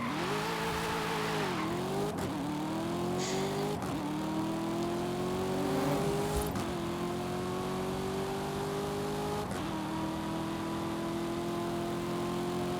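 Muscle cars race in Forza Horizon, with engines droning loudly and revving up through repeated gear shifts, each shift a brief drop before the rising pitch climbs again, plus faint tire squeal, steady and close throughout.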